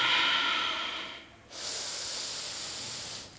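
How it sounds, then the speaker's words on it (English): A slow, deep exhale through the nose during yoga in lotus pose, followed by a second long, steady breath, close and clearly audible with no speech. "breathe out"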